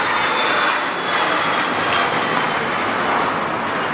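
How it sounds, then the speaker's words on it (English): Fixed-wing airplane flying overhead near an airport, a loud continuous engine roar with broadband rush that holds steady across the whole stretch, close and alone without voices. "Apparently, we're near the airport."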